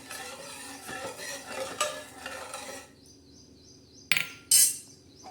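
Sugar being stirred into water in a pot for sweet sabudana milk, with a spoon scraping and clinking against the metal in irregular strokes, then a pause and a couple of sharp louder knocks near the end.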